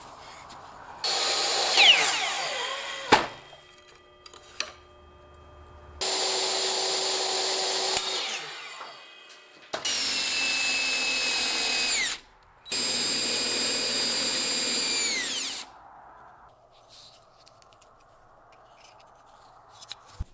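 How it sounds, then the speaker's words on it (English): A power saw rips half-inch strips of wood for shelf brackets, cutting in four loud, sustained whining passes separated by short pauses, then winding down to near silence. "to rip some 1/2 inch pieces of wood."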